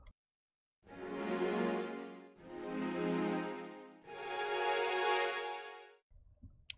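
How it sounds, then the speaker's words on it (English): Three long, swelling string chords come from a synthesizer on a worship-style strings preset. Each lasts about one and a half seconds and flows into the next, played alone without talk. "If we change it to strings, it'll sound like this."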